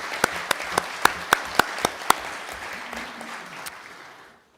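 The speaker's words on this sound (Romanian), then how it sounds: "Haideți încă o dată să-i aplaudăm și să le mulțumim!" Applause fills a parliament hall after a choir's performance, with sharp individual claps standing out over a steady wash of clapping that fades away toward the end.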